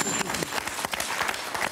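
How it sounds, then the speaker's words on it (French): Studio audience clapping on the French television game show Motus, a moderately loud patter of claps across the whole stretch, with no talk over it. "on vous applaudit très fort"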